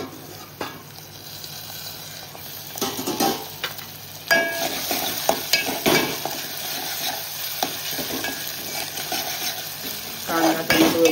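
Onion and tomato cook in a pan with a steady soft sizzle, broken by scattered clanks and scrapes of a spoon against the pan, fairly close, with no voices.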